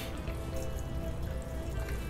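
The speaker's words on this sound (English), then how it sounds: "I'm gonna open it and pour some water in the tank." Water is poured into the tank of a Breville YouBrew coffee maker, making a steady, continuous splashing that stays even throughout.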